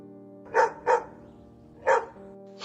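A dog barks three times, two quick barks close together followed by a pause and a third, fairly near and clear over a low steady background hum.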